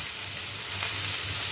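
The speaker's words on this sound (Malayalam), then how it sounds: "സവാള നന്നായി വഴണ്ടി വരുന്നുണ്ട്." Onions sautéing for a Kerala-style mutton curry give a steady, close sizzle of frying that runs unbroken and fairly loud, with no voices over it.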